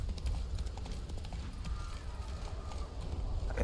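Hooves of the horse Roach galloping in The Witcher 3, a fast, rapid clip-clop close by under a low rumble.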